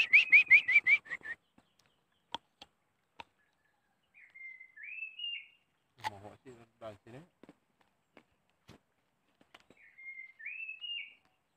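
Birds in a village countryside garden give clear, whistled chirps: a rapid trilled phrase, then two later repeated whistle calls, with quiet gaps and scattered clicks and footsteps between. A person speaks briefly.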